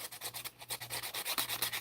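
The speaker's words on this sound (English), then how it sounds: "We're just going to take the paper snips" Paper snips run along the edge of two-toned cardstock, giving a quick series of rhythmic scraping, rasping strokes, close and fairly quiet, with no talking.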